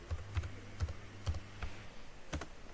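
Typing on a computer keyboard while entering data into an Excel spreadsheet: a handful of separate, close key presses with soft gaps between them.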